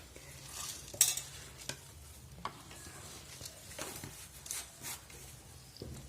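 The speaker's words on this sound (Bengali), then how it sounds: "এবার সমস্ত উপকরণগুলো ভালোভাবে মেখে নেব।" A drumstick flower fritter batter being kneaded by hand in a bowl: close, quiet squelching and stirring with a few sharper clicks, and no one speaking.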